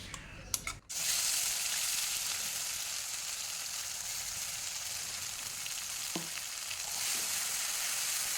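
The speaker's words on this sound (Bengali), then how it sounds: "এখন দেখো এই তেলের মধ্যে আমি মশলাগুলো যেই মশলাটা করে রেখেছি সেটা পুরো এর মধ্যে আমি দিয়ে দিচ্ছি" Ground spice paste lands in hot oil for a rui or katla fish curry and erupts into a loud, sustained hiss and crackle that stays strong, with one brief clink partway through.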